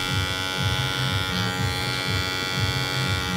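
Electric hair clipper with a 0 guard running close during a fade haircut, a steady, even motor buzz with slight wavering as it passes over the hair, and no talking.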